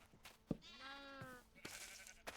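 A Minecraft sheep bleats once in a clear, wavering call from a video game, set between a few sharp clicks and taps.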